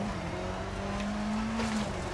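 A rally car with a broken exhaust in EA Sports WRC drones steadily as its engine holds a near-constant pitch that rises slightly, loud and continuous, with no talk.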